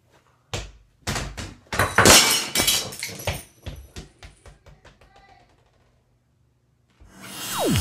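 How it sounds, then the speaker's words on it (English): An old picture frame breaks after being struck during a mini basketball hoop trick shot, giving a run of loud thuds and a crash, followed by scattered clattering that dies away. "I broke a frame in the process"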